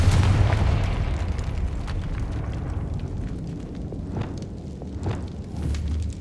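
A fiery Confringo spell explosion in Hogwarts Legacy rolls out as a loud, sustained low rumble with crackling bursts on top, dense and close, slowly fading over several seconds, with no speech.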